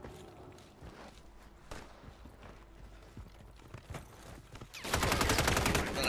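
Rapid gunfire from an M16 fitted with a conversion kit in the video game Call of Duty Warzone, heard as a loud, dense burst of shots near the end, after quieter scattered game sounds and clatter.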